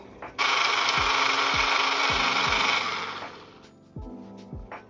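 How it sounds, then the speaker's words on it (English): A small blender whirs loudly for about three seconds with a high motor whine, then spins down, leaving quieter mechanical clicks and a brief restart. "I like to use a small blender instead of like a large one"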